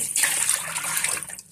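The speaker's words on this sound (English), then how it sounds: "I'm gonna add some water here to start" Tap water pouring into an empty sink for washing dishes, a brief, steady, hissing stream close by.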